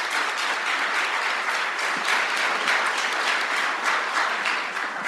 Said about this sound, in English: let's give Hayden a round of applause too